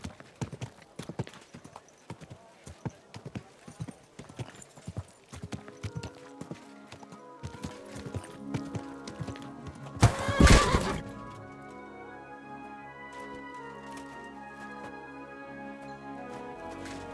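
Hooves clip-clop steadily, then a horse gives a loud whinny in the video game Kingdom Come: Deliverance II, followed by a quieter, sustained background of ambient game sound.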